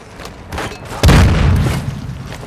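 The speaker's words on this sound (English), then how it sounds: "Throwing grenade" A grenade blast in Warzone 2.0 lands as one sudden, heavy boom with a deep low-end thump, then a rumbling tail that fades slowly under faint background game noise.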